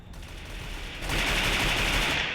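Rapid automatic gunfire in Free Fire Max rattles in a dense, continuous burst, close and loud, growing heavier partway through with no talk over it.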